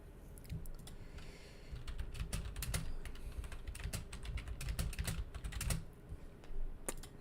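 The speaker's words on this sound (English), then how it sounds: "Sorry for typing." Steady, fast typing on a computer keyboard during a live crypto stream, a continuous run of crisp close keystrokes with occasional sharper clacks and no voices.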